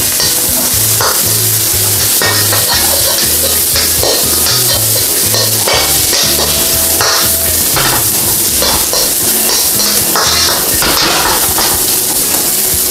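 Cabbage and green bell peppers with carrots are stir-fried in a pan for yakisoba, giving a loud, steady sizzle with repeated scraping stirs and light clatter, close up and continuous.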